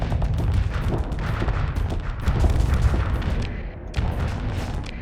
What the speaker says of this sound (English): I'm gonna shoot the Mauler now